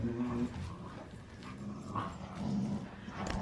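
Two dogs sharing a house growl and whimper at each other, a rough continuous grumble with higher whiny cries rising and falling, close and fairly loud in a noisy room.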